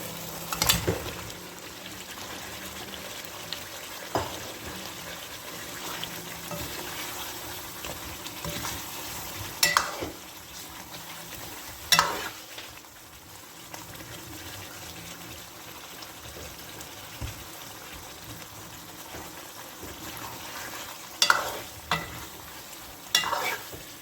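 Potatoes tipped into a frying pan of potato and egg curry and stirred, giving a steady close sizzle broken by louder scraping stirs and clatters of the spoon, with no talking.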